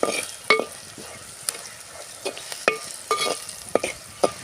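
A spoon scrapes and clacks against a pan as salted mixture is stirred while frying, about a dozen sharp, irregular strokes over a low continuous sizzle, close and fairly quiet.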